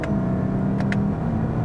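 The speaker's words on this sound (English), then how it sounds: "even it tries to mimic the sounds when I downshift here" A steady engine hum with a brief synthetic rev blip as the gears shift down via paddle shifters, heard inside a 2019 Lexus UX 250h F-Sport hybrid.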